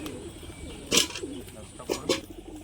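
Bazi pigeons coo softly close by, with low rolling calls over a couple of seconds, broken by a few sharper rustling bursts.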